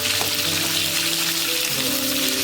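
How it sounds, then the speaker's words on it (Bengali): Pointed gourd (potol), about half a kilo, frying in hot oil in a home kitchen, giving a steady, close, continuous sizzle and crackle with no talking. "তেল গরম হওয়ার পর সব থেকে প্রথমে পটলগুলোকে ভাজবে।"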